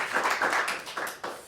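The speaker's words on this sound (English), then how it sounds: "let's give him one more round of applause" A few people at a startup meetup clapping for a speaker, a sparse, close round of separate hand claps that thins out toward the end.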